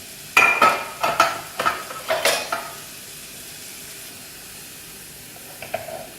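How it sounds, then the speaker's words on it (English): Onions fry in a pan, with a close run of stirring scrapes and sizzling bursts in the first few seconds, then a quiet low hiss and one last brief stir near the end. "What we'll do is to fry this until it's almost brown colored."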